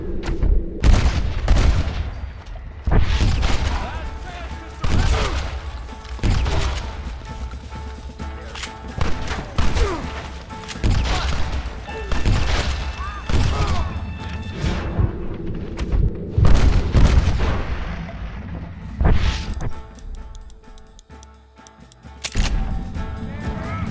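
Gunfire in the Western video game Red Dead Redemption, loud repeated shots and booming blasts in irregular bursts throughout, with some mechanical clacks and a brief quieter lull near the end.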